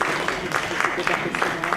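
A seated audience at a film panel discussion claps in a brief, steady patter. The clapping sits close and fairly loud, and voices mix in with it.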